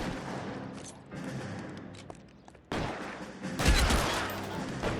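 Gunfire in the LA Noire video game, a burst of shots and heavier booms that swells louder toward the end, busy and continuous with no talking over it.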